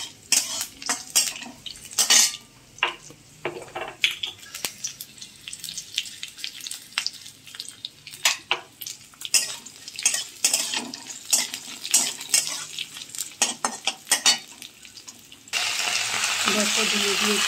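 Chopped kharkol leaves and stalks fry in a pan with potato and cumin, crackling under repeated spatula scrapes and clanks against the metal, with a louder, denser hiss near the end.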